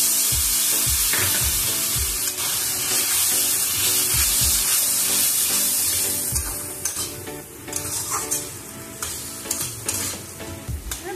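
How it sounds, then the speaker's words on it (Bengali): Water splashing into a hot pan of frying potatoes and spices, loud hissing sizzle at first, then settling into quieter bubbling with occasional stirring clinks. "জল দিচ্ছি"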